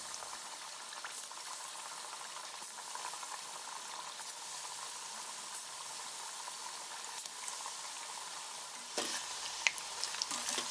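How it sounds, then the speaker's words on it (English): Battered pork pieces fry in hot oil at about 180 °C in a pot, a steady bubbling sizzle that holds evenly, joined near the end by a few soft clinks of stirring. "place the pork in and fry them in few batches"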